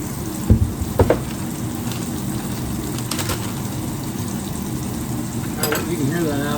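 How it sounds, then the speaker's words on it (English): Apples with brown sugar, cinnamon and nutmeg sizzle loudly in a hot pan beside pork chops, a dense steady crackle with a few sharper pops and stirring clatters. "You can hear that apple sizzling."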